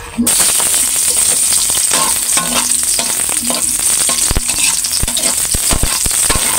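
Garlic sautéing in a hot pan, a steady loud sizzle and crackle with frequent clinks and scrapes of a utensil stirring throughout, heard up close with no talking.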